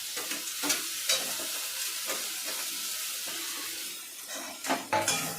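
Grated tomatoes, garlic and ginger sizzle and fry in a hot pan, with occasional stirring scrapes and clinks over the steady hiss; no one speaks.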